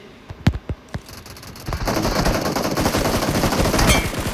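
Gunfire in the mobile battle-royale game PUBG Mobile: a few separate sharp shots at first, then a dense, loud, sustained burst of rapid automatic fire that keeps going to the end.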